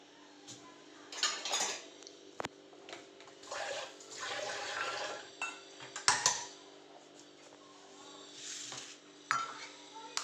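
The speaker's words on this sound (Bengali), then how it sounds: "তো ডিমটা আমি ফেটিয়ে নেব।" Egg beaten in a bowl, quick clinking strokes of utensil against the dish in irregular bursts, fairly quiet and close.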